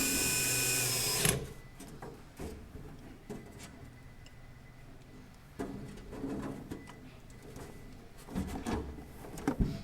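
A power screwdriver set to minimum torque backs screws out of an electric charging station, with short whirring bursts and clinks of tool handling at close range after a loud opening burst.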